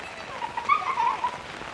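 Steady heavy rain in Sri Ganganagar patters across the clip, with a faint tonal shimmer and light children's voices far off in the background.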